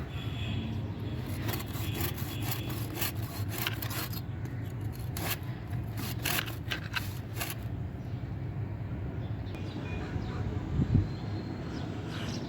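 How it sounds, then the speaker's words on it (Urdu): Hand saw rasping through a plant stem for grafting, a steady scratchy back-and-forth cutting close by with brief bright strokes, continuous over the whole stretch. "آری کی مدد سے یہ کاٹ کے"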